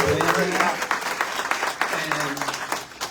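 Audience at a community coffee gathering for seniors at a Pride center giving a round of applause, close and lively clapping with scattered voices and cheers underneath.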